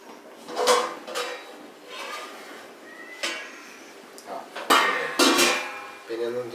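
A covered cooking pot is opened while making a riceflake and cucumber breakfast, giving several sharp metallic clanks and lid scrapes at a moderate distance, with quieter kitchen handling in between.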